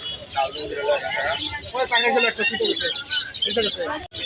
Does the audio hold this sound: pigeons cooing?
yes